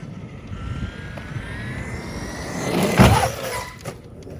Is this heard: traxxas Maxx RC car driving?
yes